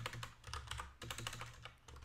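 Quick, uneven bursts of typing on a computer keyboard, close and fairly quiet, with key clicks tumbling in rapid clusters and no voices.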